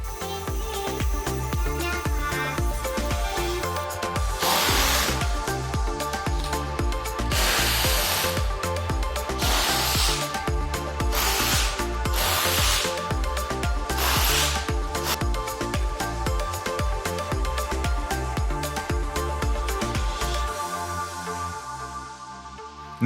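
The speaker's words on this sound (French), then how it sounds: "je vais remettre un coup de disqueuse tout le long et on va essayer de faire sauter toute la partie béton" An angle grinder cutting along a concrete slab on a building site, a harsh, sustained grinding rasp with surging bursts, loud and continuous for over twenty seconds, alone without talk.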